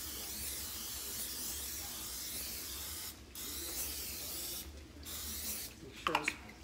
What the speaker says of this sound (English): I'm just gonna spray it with some butter spray.